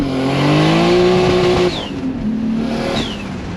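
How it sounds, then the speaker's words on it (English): Powerful car accelerating hard with wheel spin as the tires haze, a loud close engine rising in pitch through the gears with a brief shift in between and no speech. "Second gear hazes the tires a little bit, but hook's pretty good."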